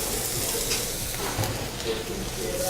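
Butter and chopped garlic sizzle in a pan with shrimp for a scampi sauce, a steady close frying hiss that carries on without a break and with no talk.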